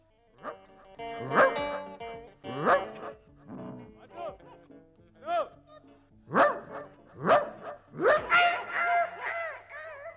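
A dog barks repeatedly and loudly at close range, giving about eight sharp barks and yips in an uneven rhythm.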